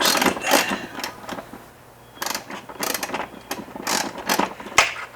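Seat bolt being loosened with a hand tool on a Yamaha XS1100 motorcycle, heard as quiet, close ratcheting clicks in uneven bursts with short pauses between turns.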